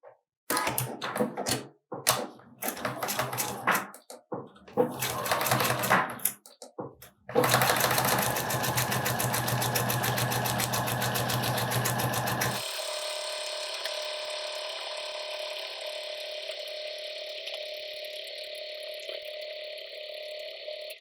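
A sewing machine stitches a facing seam on a garment, first in short stop-start bursts for backstitching, then in one long steady run before settling into a continuous higher whirr, loud and close with no talk.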